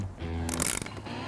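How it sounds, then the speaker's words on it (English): Torque wrench tightening beadlock ring bolts on a KMC wheel: a brief, close burst of clicks and scraping over a low hum, with no talking. "I'm gonna go around and tighten the beadlock ring in a crisscross pattern again."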